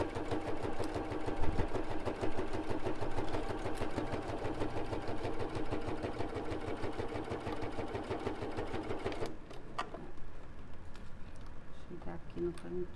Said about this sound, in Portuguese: E vem rebatendo para acertar no mesmo lugar e não ficar aparecendo a costura de baixo.